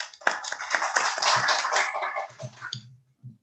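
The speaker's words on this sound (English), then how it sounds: "So please give a big applause to Mr." A conference audience at a geoscience thematic session gives a short burst of applause. Dense clapping builds and then thins into a few scattered claps before it stops, and faint murmuring can be heard near the end.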